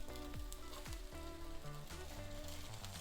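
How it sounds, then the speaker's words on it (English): Cherry tomatoes sauté in a pan with a continuous close sizzle and crackle, with light spatula knocks and stirring clicks throughout. "we just wanna saute this so it's nice and soft"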